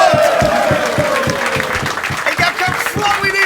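A crowd at a Limburg carnival (Vastelaovend) gathering applauds, the clapping mixed with loud talk, music and a regular thumping beat underneath.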